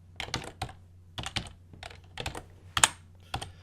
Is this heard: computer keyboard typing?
yes